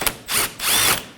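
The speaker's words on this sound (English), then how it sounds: "We're going to be removing the 10mm bolts." Power tool spinning out 10mm bolts on a 2014-2020 Acura MDX during radiator replacement: three close, loud whirring bursts, a short one followed by two longer runs, with no talking.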